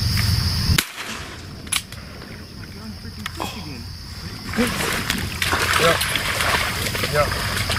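Shotgun blasts aimed at teal ducks dropping out of fog on a duck hunt, a sharp report early and a fainter one shortly after, followed by water splashing and hunters talking.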